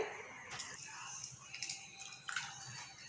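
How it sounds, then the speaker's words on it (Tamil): Turkey berries swished by hand through a bowl of water, giving soft sloshing splashes and scattered drips in short bursts, with a faint low murmur underneath. "ஒரு ரெண்டு மூணு டைம் நல்லா இந்த மாதிரி அலசி எடுத்துடலாங்க"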